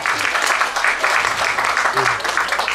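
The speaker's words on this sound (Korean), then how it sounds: "박수 한번 주세요." Applause from an audience at a comic pumba stage show, steady and dense throughout, with a few faint voices underneath.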